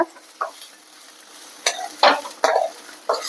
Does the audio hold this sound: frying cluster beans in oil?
yes